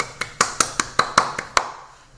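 Congregation clapping during an Easter Sunday church service: about eight evenly spaced, sharp claps in a steady rhythm, fairly close and clear, with no talking over them before they fade out.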